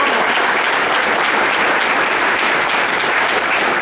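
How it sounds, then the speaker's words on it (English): Loud, dense applause from a podcast live audience, steady clapping throughout with no break. "Round of applause."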